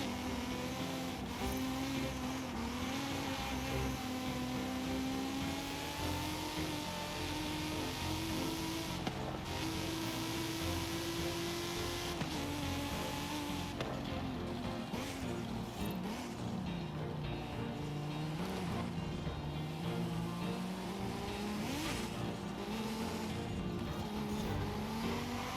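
A race car in Forza Horizon 5 drives a long route, its engine droning and shifting pitch steadily throughout with occasional tire noise, loud and continuous.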